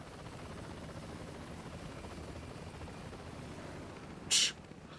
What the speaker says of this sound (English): That's how ninjas roll on a helicopter.